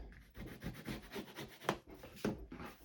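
A folded paper flap is burnished with repeated close rubbing strokes, a soft dry scraping that rises to a few sharper passes, faint overall with no talk.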